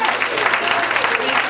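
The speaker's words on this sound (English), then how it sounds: "Clap for man." An audience at a live show claps steadily in a dense, moderately loud patter while voices talk over the applause.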